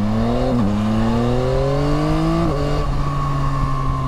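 A Yamaha Tracer 9 GT motorcycle engine, ridden in damp conditions, revs loudly and steadily with a strong induction note, its pitch climbing through gears with two quick dips as it shifts, heard close and without speech.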